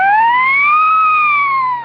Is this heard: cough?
no